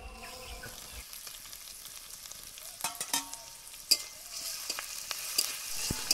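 Onion, green chilli and garlic paste frying in a pan with a faint steady sizzle, broken by sharp scraping clicks of a spoon stirring, growing more frequent and louder toward the end.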